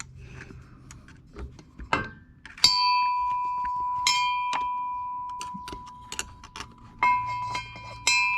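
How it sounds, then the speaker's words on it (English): Repeated metallic clangs and ringing taps as a screwdriver strikes the drive shaft of a BMW E46 during a short shifter install, a sharp strike leaving a sustained ringing tone, with scattered clinks and clatter throughout. "I'm hitting the drive shaft as we do this."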